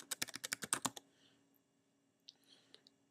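A computer keyboard is typed on quickly, about ten crisp close keystrokes in a rapid burst, followed by near silence and a couple of faint isolated clicks.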